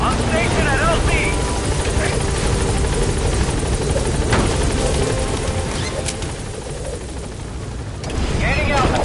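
The Pequod helicopter in Metal Gear Solid 5 hovers at a landing zone, its steady, loud rotor wash and engine roar filling the scene while a radio voice talks over it.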